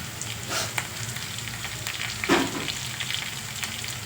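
Puri upma tempering frying in a pan, a steady close sizzle running throughout with a brief louder crackle partway through.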